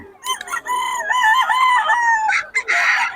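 Roosters from a fowl market in Bocaue crow and cluck loudly up close, with several overlapping crows in quick succession and no talk over them.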